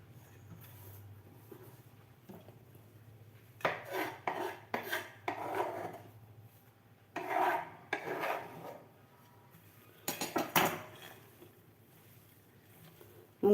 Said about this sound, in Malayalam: നന്നായിട്ട് മിക്സ് ചെയ്തെടുക്കാം കേട്ടോ